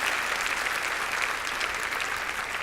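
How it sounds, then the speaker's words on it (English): A seated audience at an inaugural address gives a round of applause, a dense, steady wash of clapping that holds at an even, fairly loud level throughout, with no talk over it. "if you would give me a round of applause"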